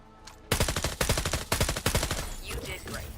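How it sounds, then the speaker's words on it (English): Rapid bursts of gunfire crack out in FragPunk at moving targets, loud repeated shots in quick clusters after a quiet first half second, trailing off toward the end. "Try shooting these moving targets"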